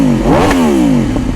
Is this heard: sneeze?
no